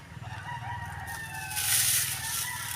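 A rooster crows in a long drawn-out call over a low rumbling background, fairly distant and moderately loud.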